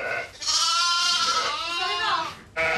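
A sheep or lamb bleats loudly and close by in a long, wavering, quavering cry that rises and falls, then breaks off briefly before another bleat starts.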